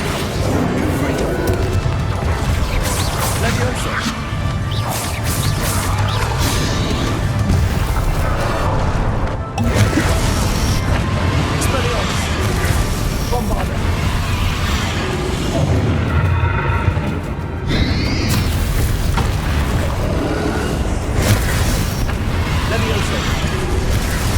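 Confringo spell explosions burst repeatedly in Hogwarts Legacy, loud booming blasts packed into a constant wall of combat noise, with voices mixed in throughout.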